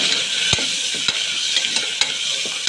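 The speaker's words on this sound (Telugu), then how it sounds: "ఇలా అది బటర్ వేయగానే తుల్లుతుంది కదా" Whole garam masala spices sizzle and crackle in melted butter in a pan, a steady bright frying hiss with a few soft knocks from stirring, close and continuous with no talk.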